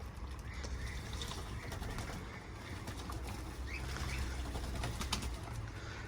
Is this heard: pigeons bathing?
yes